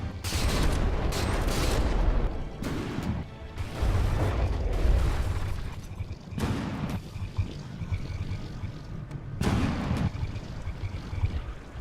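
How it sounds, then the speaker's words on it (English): Naval gunfire in the warship combat game From The Depths, a frigate duel: repeated loud booming salvos and shell blasts with crackling debris and a churning, watery rumble between shots, no talking. "At this range it's going to be a little bit difficult for the Protostar to evade shells"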